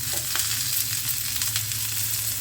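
Sour-sweet roselle chutney sizzles steadily in a frying pan while a utensil stirs it, leaving a few soft scrapes over the close, even frying hiss. No one speaks.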